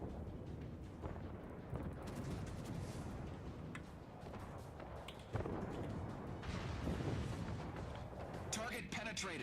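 Naval guns fire in World of Warships, deep booming blasts and rumbling over continuous battle noise, with voices speaking over parts of it.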